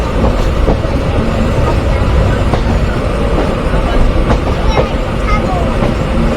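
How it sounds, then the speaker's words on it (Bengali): Kapotaksha Express train pulling into Kotchandpur railway station in Jhenaidah, a loud continuous rumble with rolling wheel clatter and faint metallic squeaks, heard up close as a voice talks over it. "অপদাক্ষ এক্সপ্রেস ট্রেনটি এই মুহূর্তে প্রবেশ করছে ঝিনাইদহের কোটচাঁদপুর রেলওয়ে স্টেশনে"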